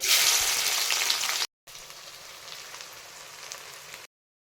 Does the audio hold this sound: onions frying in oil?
yes